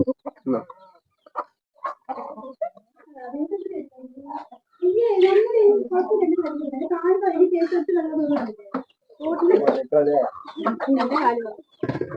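Chickens cluck and chatter close by in a continuous, busy stream in a Kerala village, with a person talking intermittently over them.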